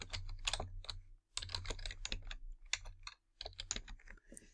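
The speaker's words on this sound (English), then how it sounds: "The first thing I'm going to do is type in a name for the template." Rapid bursts of clicking on a computer keyboard as a template name is typed, close and crisp, in three quick runs separated by short pauses, with no voices.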